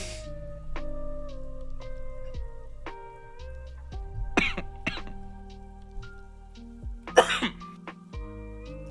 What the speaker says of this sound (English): No, I coughed right at the beginning.